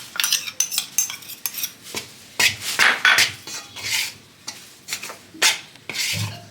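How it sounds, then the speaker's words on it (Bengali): A spoon scrapes and clinks around a bowl, mixing dhokla batter with salt and turmeric in a run of short, uneven strokes, close and fairly loud. "এবার আমি একসঙ্গে মিশিয়ে নিয়ে"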